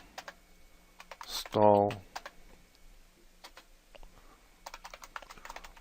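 A computer keyboard is typed on to enter a terminal command on a 64-bit Ubuntu 14.04 system, with scattered crisp key clicks around someone speaking and a brief louder burst in the middle.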